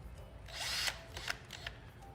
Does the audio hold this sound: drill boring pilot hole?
yes